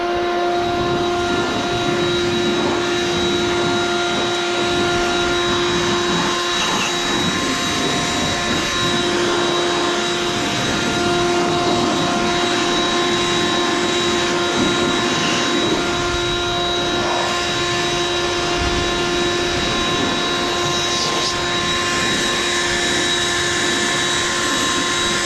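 Compressed air blasting debris off a farm sprayer after the spraying season, a steady loud rushing hiss running continuously and close by with constant tonal whine throughout.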